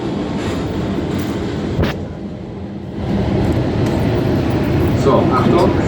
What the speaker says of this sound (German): 380er in der Startphase